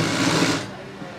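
A sewing machine running a straight stitch along a folded hem of a skirt made from waste cloth, a steady close whirring burst that slows and softens after about half a second, with someone talking over it.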